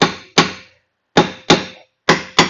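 A hammer strikes around the edges of a brake drum to loosen it, six sharp metallic taps in uneven pairs, each ringing briefly before decaying to silence, close and loud.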